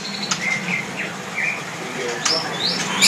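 A white-rumped shama calls with short clear whistles and chirps at a bird seller's, fairly close, over a steady background hum of voices and noise.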